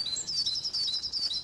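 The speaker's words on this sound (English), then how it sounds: "already I'm hearing nuthatches and tree creepers" High, thin woodland bird calls from nuthatches and tree creepers repeat in quick, evenly spaced chirps, fairly close and clear against a quiet background.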